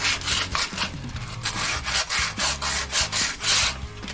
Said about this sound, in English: do some sanding on it.